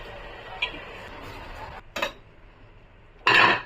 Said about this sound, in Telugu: ఇందులోకి మనం ముందుగా కడిగి పెట్టుకున్న బియ్యం వేసుకోవాలి.